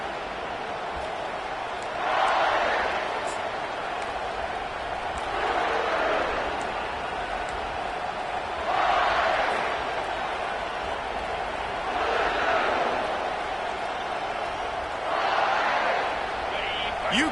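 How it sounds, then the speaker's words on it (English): Home crowd noise fills a football stadium at Ohio State versus Kentucky, a steady roar that swells in loud waves every few seconds, with a commentator's voice running over it. "let's also trust this home field advantage and the crowd to get loud"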